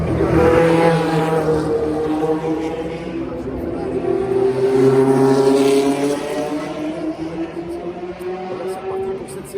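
Historic racing cars, including a McLaren M26, roar around the Monaco street circuit, engines droning and rising in pitch as they pass, with a commentator talking over the loud, continuous engine noise.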